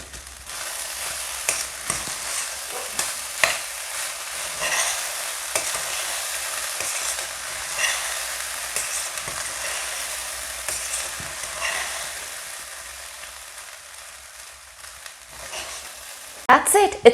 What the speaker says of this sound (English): I combine all of it together, giving it a good stir